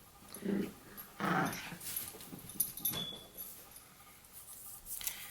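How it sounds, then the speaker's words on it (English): A dog whimpers and whines in short bursts a few times, close by, with soft rustling between the cries and no one talking. "Sorry if you guys hear my dog in the background."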